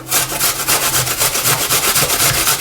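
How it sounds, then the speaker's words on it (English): Apples grated by hand for homemade horse treats, a loud, close rhythmic rasping of quick back-and-forth strokes repeating steadily, with no voices. "I think a good place to start would be to grate the apples and the carrots"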